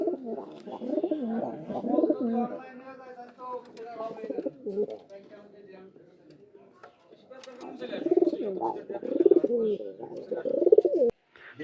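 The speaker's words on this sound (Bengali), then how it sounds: "কি সুন্দর কবুতর" Village pigeons kept in a household dovecote, soft repeated cooing close by in several bouts, with a voice speaking intermittently over it.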